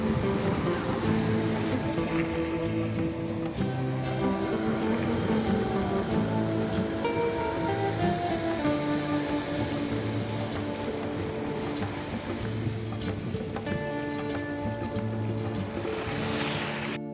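Big ocean waves roll and break at Anjuna beach in Goa, a steady dense wash of surf filling the air with continuous roaring hiss and no voices.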